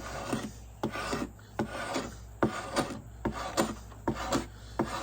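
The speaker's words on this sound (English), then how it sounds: "Now, once I get close to it and you see it spotted looking, I'm taking and turning it up like this. And I'm scraping it" Rhythmic rasping strokes of a blade scraping down a hickory bow stave, about a dozen close, dry passes in a steady back-and-forth pattern with no talking.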